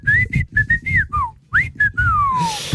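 A person whistles a melodic phrase of short, rising and falling notes in a studio setting, loud and close, ending in a long descending glide with a soft breath noise at the end.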